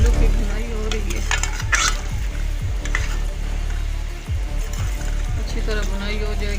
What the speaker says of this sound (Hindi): ये आलू की भुनाई हो रही है